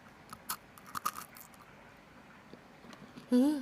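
Biting into a crunchy peach-flavoured Japanese jelly, crisp outside and soft inside: several faint, close crunchy bites and chews with short pauses, followed by a brief burst of speech at the end.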